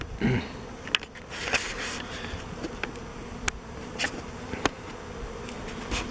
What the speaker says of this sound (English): they're coming in waves, just bee after bee after bee, and they're all having to slow down to get to the landing board